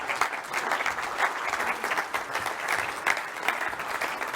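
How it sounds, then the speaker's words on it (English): Audience applause fills a hall, steady dense clapping from a crowd at a science event, sustained and fairly loud throughout with no talking. "Let's give them another round of applause."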